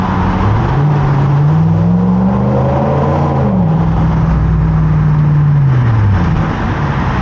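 2006 Volvo S60R accelerating through a tunnel, loud and close, engine note climbing and falling across gears with a long rising pull, reverberant roar filling the whole run.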